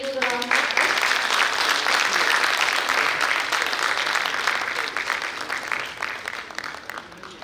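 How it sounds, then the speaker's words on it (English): Conference audience at a steel industry gathering claps in welcome, a dense, sustained round of applause that begins strongly and gradually fades toward the end. "I request our steel gathering to please welcome him with a huge round of applause"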